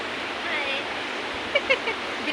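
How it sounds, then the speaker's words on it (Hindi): Water rushes through a stream in a ravine as a continuous, even hiss at moderate level, with a few faint bird chirps and small clicks rising above it near the end. "पीछे चल रही है झरने की आवाज़, झरना नहीं खड्ड की आवाज़ है ये।"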